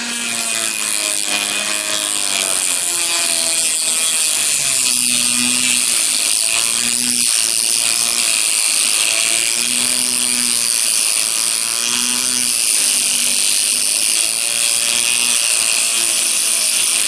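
A saw cuts through rods for a coffee bar built from a reclaimed door, grinding on in a steady, rhythmic rasp with a high whine running underneath, close and continuous.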